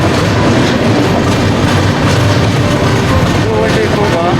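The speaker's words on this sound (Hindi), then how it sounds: "अब फतेहपुर से हमारी ट्रेन का डिपार्चर हो चुका है।" The Prayagraj Express passenger train runs on its tracks after leaving Fatehpur station at night, making a loud, steady rumble with rhythmic clickety-clack of the wheels throughout.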